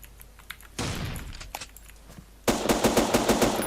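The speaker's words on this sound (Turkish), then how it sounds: "Evet adam şu an bana sıkıyor" Rapid automatic gunfire in the survival video game Next Day: Survival, with a short loud burst, scattered single shots, then a sustained dense volley of close, sharp shots near the end.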